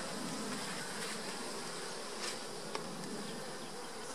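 Honey bees buzz in a dense, steady drone around an open hive during beekeeping work, close and constant throughout with no talking.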